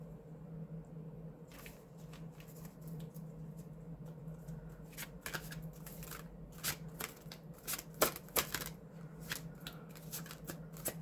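Tarot cards shuffled and dealt for a winter solstice reading, with soft riffling and a run of crisp, quiet card flicks and slaps that grow busier toward the end, with no talking.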